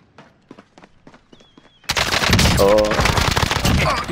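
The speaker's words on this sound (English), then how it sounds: "He's shooting me." Rapid automatic gunfire erupts in a video game, loud and dense, following a quieter stretch of sparse clicks and footstep-like taps.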